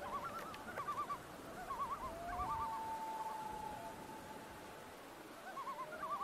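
Loons call across a lake in Mississagi Provincial Park, Ontario, with repeated wavering tremolo phrases and one long drawn wail. The calls are faint and distant over a quiet background.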